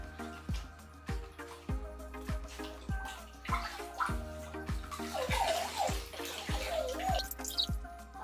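A fish tank filter is rinsed out in the tank's own water during a water change on a Malawi cichlid tank, giving repeated close splashes and drips with sloshing gurgles that build up toward the end, with no talking.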